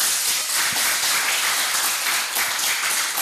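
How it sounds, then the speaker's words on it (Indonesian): An audience at the closing ceremony of a cadre training program for Islamic scholars bursts into loud, sustained applause. Dense, continuous clapping fills the space with no voices over it. "Tepuk tangannya mana nih?"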